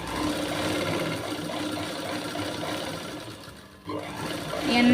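A sewing machine stitches lining onto slippery cloth with a continuous close motor whir. It pauses briefly near the end, then starts again, with no talk over it.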